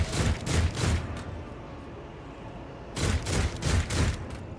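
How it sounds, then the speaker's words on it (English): Bursts of gunfire from the Warhammer 40,000: Rogue Trader video game, two clusters of rapid volleys separated by a quieter stretch, fairly close and alone. "They're shooting at the navigator, who appears to be protecting herself with"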